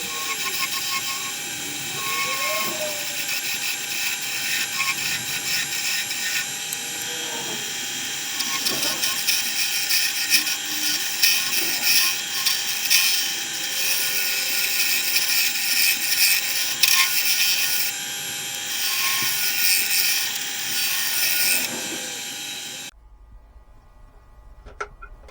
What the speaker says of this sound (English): Simon Hope 8mm hollowing tool, which I'm using now.